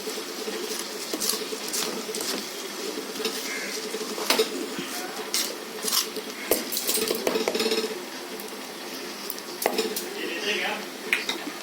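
A spoon scrapes and clinks against a metal pot while masala for moong dal khichdi is mixed, with irregular close knocks and stirring rattles.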